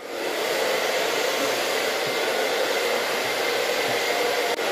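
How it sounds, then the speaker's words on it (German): A hair dryer blows in a loud, steady, close whoosh while a man's hair is dried upward to bring out curls and waves, running continuously without pause or talk. "hauptsächlich nach oben föhnen"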